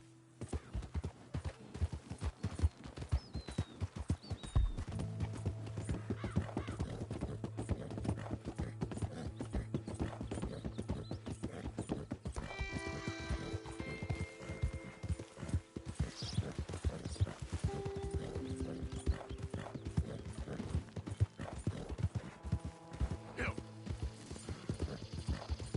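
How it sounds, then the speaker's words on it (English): A horse galloping in Red Dead Redemption II, with fast, steady clip-clop hoofbeats close up throughout, the rider's voice speaking over it at times, plus occasional faint tack and game ambience. "Giddy up."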